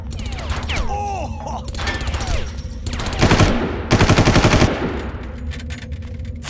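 Far Cry gunfire: rapid automatic bursts rattling loudly in several volleys, with whooshing and mechanical game effects in between, no speech.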